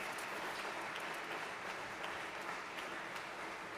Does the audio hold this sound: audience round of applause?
yes